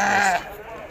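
A single sheep at the Tuesday livestock market in Azrou, Morocco, lets out one loud, close, wavering bleat that cuts off abruptly, leaving a low murmur of market noise.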